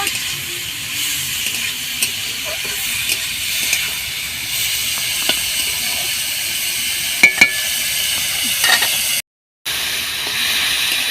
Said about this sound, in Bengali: মাংসটা ভালোভাবে ভাজা ভাজা করে নিয়েছি বন্ধুরা